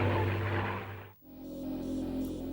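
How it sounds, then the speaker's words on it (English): World War II Avenger propeller aircraft in flight, a steady engine and propeller drone that briefly cuts out and then resumes at a lower, even hum. "we will fly the exact planned route of the doomed Flight 19 in an authentic World War II Avenger aircraft"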